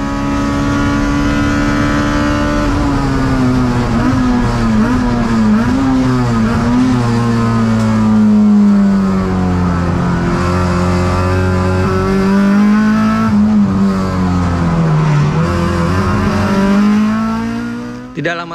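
A race car's engine drones loudly and continuously through an endurance race at Sepang, its pitch rising and falling with gear changes and acceleration, heard close from inside the car.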